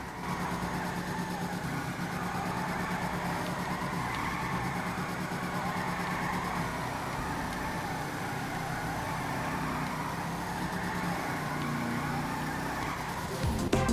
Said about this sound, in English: As you can see, she bogs right down.